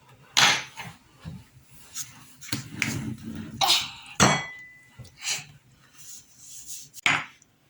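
Cookie dough being mixed with salt in a bowl, heard as irregular clattering knocks and clinks of utensil against bowl, close and sharp with quiet gaps between.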